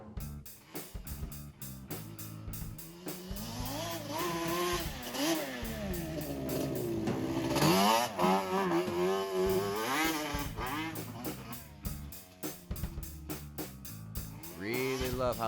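A Yamaha Banshee ATV engine revs close by, its pitch rising and falling through several throttle blips over a ringing two-stroke buzz, with a voice speaking over part of it.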